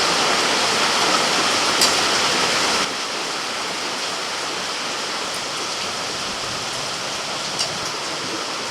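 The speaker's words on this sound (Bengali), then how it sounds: "সয়াবিন সিদ্ধ হয়ে গেছে তুলে নিচ্ছি জলটা ঝরিয়ে" Water pours off boiled soybeans as they are drained, giving a steady rushing splash that is heavier at first and then settles into a softer continuous trickle.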